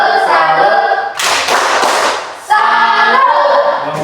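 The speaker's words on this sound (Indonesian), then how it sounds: "Mari kita beri tepuk salut untuk kelompok 2." Seventh-grade students in a classroom burst into a dense, loud round of clapping for about a second and a half, with chanting voices before and after the claps.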